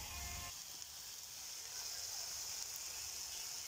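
Steady sizzling of food frying on a hot saj pan, a constant hiss with a brief low rumble at the start.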